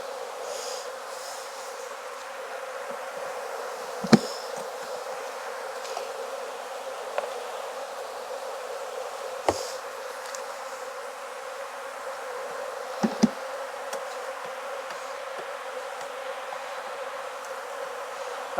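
Honey bees drone continuously around an opened hive during a fall hive reduction in Jacksonville, Florida, a steady close buzz with a few sharp knocks of frames or tools.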